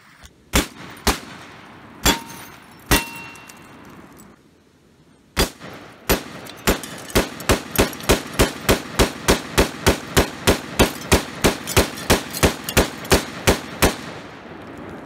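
AR-15 rifle shots striking an iMac computer: a few spaced loud cracks, then a rapid string of about twenty evenly timed sharp reports, each clanging hit close and loud with no talk.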